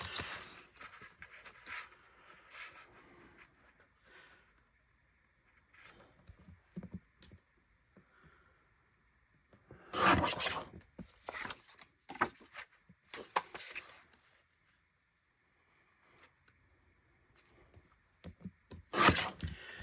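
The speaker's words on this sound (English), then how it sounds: "I'm going to get this trimmer and do a 5 1/2 and a 5 1/2" A paper trimmer cuts cardstock for a cascading card page, with bursts of scraping slides and rasping cuts close by, separated by quiet gaps and light handling taps.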